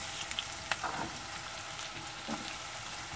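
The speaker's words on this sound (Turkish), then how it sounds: "Şimdi minik doğradığım patatesleri atacağım." Steady sizzling and crackling of small diced potatoes frying in a pot of pea and diced-meat stew, with a few faint clinks and stirring sounds over the constant hiss.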